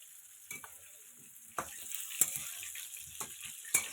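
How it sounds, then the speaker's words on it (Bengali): Fish frying in a pan as an aunt cooks at home, with scattered clattering stir and scrape sounds over a steady sizzling hiss. "আজকে কাকি রান্না করতেছে মাছ দেখো মাছ রান্না করছে কাকি দেখো"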